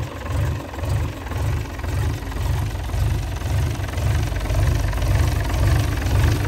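A Doosan 1146 diesel engine, six-cylinder 11-litre, idles steadily with a deep, even low-frequency throb and a regular pulsing rhythm, heard close and alone.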